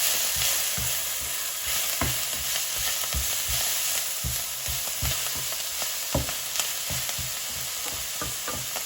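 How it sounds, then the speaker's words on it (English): Lettuce leaves sizzle and crackle steadily in hot oil as they sauté, with regular soft scrapes and clicks of stirring, close and unaccompanied by talk. "Now you hear it start sizzling, so I'll turn down the heat to medium-high"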